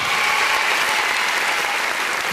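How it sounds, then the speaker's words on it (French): Steady, dense applause fills the moment after a school match ends, with Kër Yaye Racky Sow's team taking its first win over Siley Guissé. The clapping is loud, continuous and without pauses. "des applaudissements s'il vous plaît pour ce geste"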